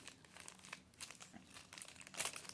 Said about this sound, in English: Let me see if I can get out of the plastic bag.